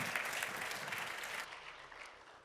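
An audience at an international plant phenotyping symposium session applauds the speakers: thick, even clapping from many people that suddenly thins and tapers away in the second half.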